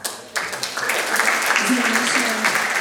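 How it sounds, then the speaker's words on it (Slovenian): An audience in a hall for a Slovenian youth awards ceremony breaks into applause, a dense steady clapping that swells quickly after a brief quiet start and continues evenly, with a voice speaking over it. "Še en aplavz"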